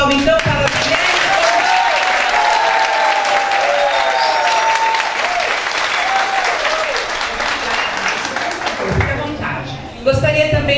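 An audience at a women's union gathering bursts into sustained, lively applause, clapping hands densely for several seconds before it fades and a voice briefly returns.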